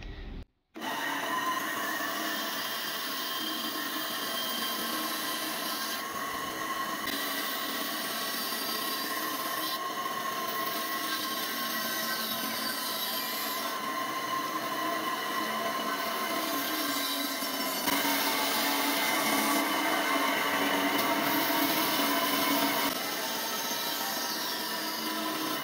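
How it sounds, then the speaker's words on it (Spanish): A saw cuts through wood for a homemade tortilla press with a continuous, bright, gritty whine that runs steadily for about twenty-five seconds, with slight shifts in tone partway through. "Yo hago el corte aquí en mi sierra"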